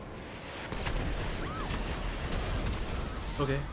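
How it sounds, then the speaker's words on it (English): Gunfire and explosions from online players in GTA V: a dense, rumbling barrage of shots and booms that swells after a quiet start and stays continuous, with a short voice at the end. "The online players seem to like to shoot at one another on a regular basis, so I'm always getting blown up or shot."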